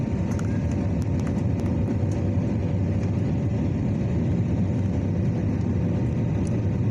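Cabin of an airliner in flight to Delhi, a loud steady low roar and rumble that holds without a break, with a few faint clicks and ticks above it.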